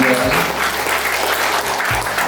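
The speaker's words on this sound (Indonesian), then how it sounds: "Nah, tepuk tangan buat Bang Rudi Rafi." An indoor meeting audience at a Golkar party youth wing gathering in Bekasi breaks into loud, dense hand-clapping that fills the room evenly throughout.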